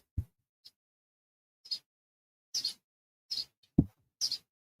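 Birds chirping in short, separate bursts, several bright tweets spaced irregularly with silence between them, faint and alone.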